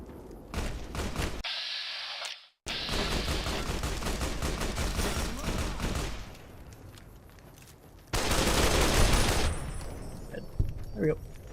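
Repeated gunshots from a weapon in Fallout: New Vegas, fired in quick successive bursts with a brief pause, then a louder, sustained volley toward the end, with echoing game ambience between shots.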